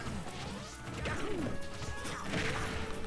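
Luigi lands an up smash in Super Smash Bros. Ultimate, a sharp crashing hit amid dense game effects, whooshes and crowd-like noise, fairly faint overall with no talk.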